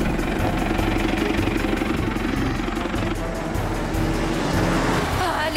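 A car with the accelerator floored gives a loud, steady engine roar close by, holding a strained drone throughout with a slight shift near the end, while voices speak over it.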